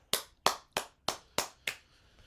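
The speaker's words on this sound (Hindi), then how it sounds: "खुदावंद यीशु मसीह के लिए जोरदार तालियां बजाएंगे" Someone at a prayer meeting claps for Jesus Christ, six sharp, close claps at an even pace, then quiet.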